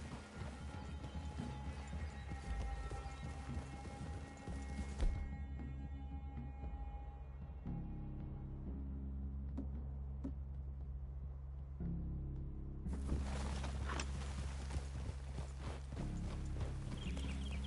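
Horses' hooves clip-clopping in the video game Red Dead Redemption 2, a steady rhythm of hoof strikes over a low ambient drone, with occasional clatter and a soft whinny.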